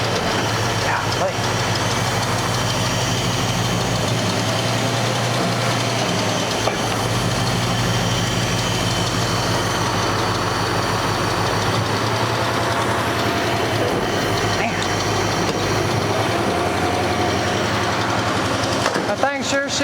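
A 1986 Dodge Ram engine idling high and rough after sitting for years, a loud continuous droning run with steady low rumble throughout, close up, with someone talking over it at times.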